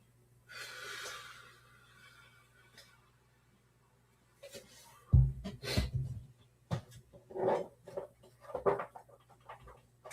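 A pet dog pants in quick, breathy bursts close by, with snorts and sniffs between pauses, fairly quiet overall.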